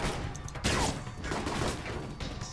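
Gunfire in the Alpha Protocol video game, a rapid rattling burst of shots, fairly loud and close, with game sounds around it.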